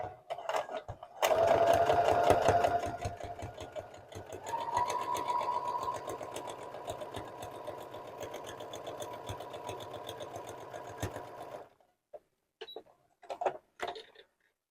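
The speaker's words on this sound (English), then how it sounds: "you find a good spot to edge stitch on" A sewing machine edge stitches a fabric bookmark, quiet rapid mechanical stitching running in bursts close by, with a brief pause early on and scattered clicks and handling noises after it stops.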